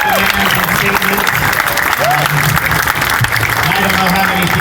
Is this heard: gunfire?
no